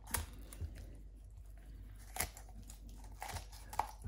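Kitchen shears snip through the spine of a brined chicken, giving a few sharp, isolated crunching cuts up close with quiet pauses between them.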